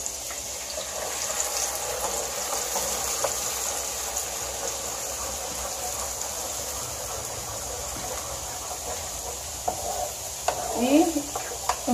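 Blended red chile sauce hits hot oil in a frying pan for red enchiladas, giving a steady soft sizzle with light stirring and liquid movement throughout, with no talk.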